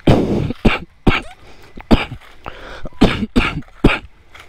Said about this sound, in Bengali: তো কাশি হয়েছে, কিছু করার নেই, ঠান্ডা তো লাগবে